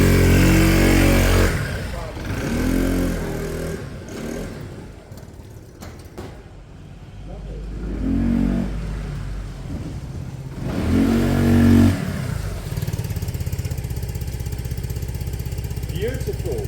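Peugeot Satelis 125 scooter on its first test run after reassembly, the engine rising and falling through repeated revs and a short ride, loud and close, with a voice speaking over it at times.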